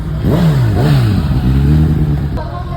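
A motorized tricycle revs loudly up close on a fiesta caravan ride at a tuna festival, its engine pitch rising and falling in several quick surges before settling into a steady drone.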